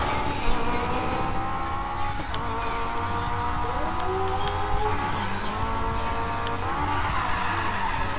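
A car spins out and skids in the racing video game Need for Speed Payback, with a sustained engine drone and wavering tire squeals, loud and close.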